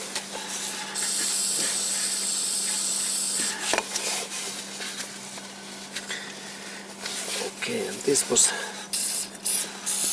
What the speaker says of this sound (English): in that area I also insert the silicone spray